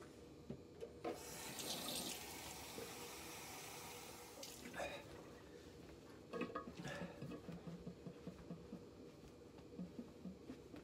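A Henson AL13 safety razor is rinsed under a running tap: a few seconds of splashing water, then quieter trickles and clinks of metal against the sink, with faint talk in the background.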